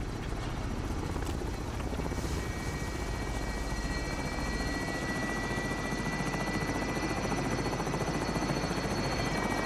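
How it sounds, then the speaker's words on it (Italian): Enemy assault helicopter in the Call of Duty video game, a steady loud rotor thrum and turbine whine droning continuously throughout, close and unbroken, with no talk over it. "Elicottero d'assalto nemico in zona."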